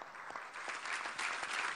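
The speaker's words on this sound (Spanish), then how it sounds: "Vamos a darle un aplauso a nuestros jefes militares." Applause from an audience at an official Venezuelan government event honoring military chiefs, a steady broadband clapping that stays fairly even and dense throughout, slightly swelling toward the end, with no speech over it.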